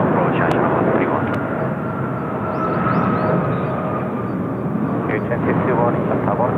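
An airliner flies low near the runway at Seoul Incheon Airport, a loud, steady roar of jet engines filling the scene. Radio voices and talk sound underneath.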